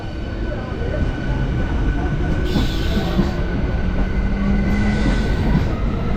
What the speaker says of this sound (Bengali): আর এই পাশেই হচ্ছে দীঘা স্পেশাল ট্রেনটা বেরিয়ে যাচ্ছে